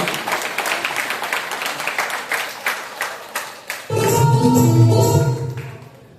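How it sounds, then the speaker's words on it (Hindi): An audience at a 6 September 2025 gathering claps for a couple of seconds, a dense burst of hands that starts abruptly after a stretch of noisy crowd sound and carries on loudly before fading. "जोरदार आवाज ताली होनी चाहिए।"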